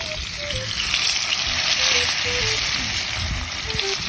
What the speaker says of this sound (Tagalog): magsisimula na tayong iprito yung mga nahuli natin